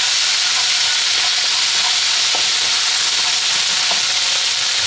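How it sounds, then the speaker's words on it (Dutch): Steady, loud sizzling of serundeng ingredients frying in a hot pan, a continuous crackling hiss with occasional small pops, no voices. "We bakken dit even gedurende een minuutje."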